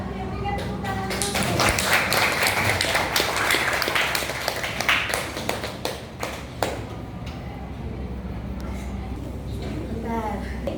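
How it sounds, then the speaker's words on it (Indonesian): A classroom of students claps together in a long, dense burst of applause, loud and close, with voices chattering through it as it tapers off near the end. "Oke, berikan tepuk tangan dulu."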